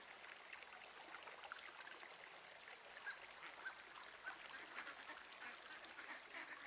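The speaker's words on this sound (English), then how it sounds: "Listen to the ducks." Soft, distant duck quacks in the video game Firewatch repeat irregularly over a faint, hissing background, quiet and somewhat muffled.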